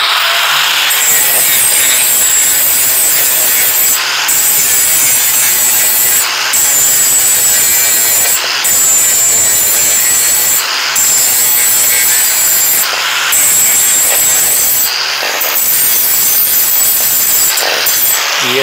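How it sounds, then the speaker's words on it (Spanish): Polishing disc grinder deburring a truck air brake chamber cover, a loud continuous abrasive rasping that surges and drops in repeated passes about every two seconds, with short pauses between strokes and no talking. "ahora vamos a quitar la rebaba con el disco de pulir"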